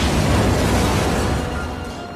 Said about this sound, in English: resulting in Jack sacrificing himself by blowing up the house